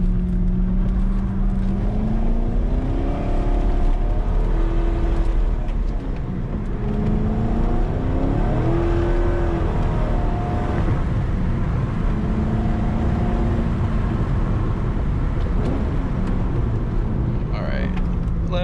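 A 2004 Corvette C5 with a six-speed manual drifting on a wet mountain road, its engine droning loud and close as it rises and falls in pitch through repeated throttle pushes, with a voice talking over it.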